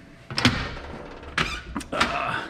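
A Snap-on tool chest's large socket drawer slides on its runners in a workshop, giving a few rolling, clunking strokes and a soft thunk, close and moderately loud.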